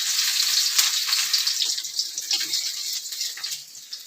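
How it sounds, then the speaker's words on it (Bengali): Chopped garlic sizzles in hot oil in a wok, a loud, close, continuous hiss and crackle that holds steady with slight rises and falls. "রসুনগুলো হালকা ডিপ ফ্রাই"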